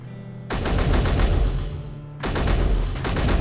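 Rapid bursts of automatic gunfire from an enemy in a video game, two loud sustained volleys of dense rattling shots with a brief gap between them.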